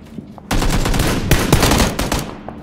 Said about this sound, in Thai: มีคนยิงมาจากหมู่บ้านซ้ายระวังด้วยหมู่บ้านซ้ายยิงมา